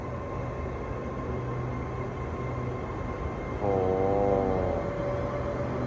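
A Bangkok Red Line high-speed train rumbles and hums steadily as it arrives, then a wavering horn-like tone sounds briefly over the continuous rolling noise.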